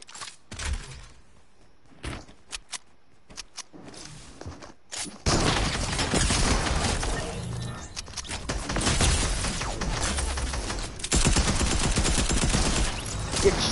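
Attack SMG gunfire in Fortnite, first a few scattered sharp shots, then sustained rapid bursts of automatic fire that run dense and loud for several seconds without any talk.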